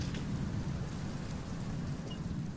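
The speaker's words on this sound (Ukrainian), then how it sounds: "Дощ тарабанив по ній зверху," Steady heavy rain drumming on a car roof overhead, a dense constant patter without pauses or voices.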